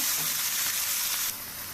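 Diced potatoes and eggplant fry in hot oil with turmeric and salt, a steady close sizzle and hiss that softens slightly toward the end, with no voices.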